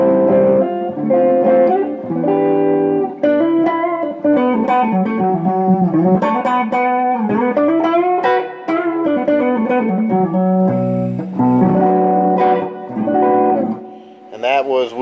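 An electric guitar, a Fender Telecaster on its neck pickup, plays a flowing melodic passage through a Vox Bruno amp, bright and clean like a blackface Fender, with sustained notes and chords, close and full.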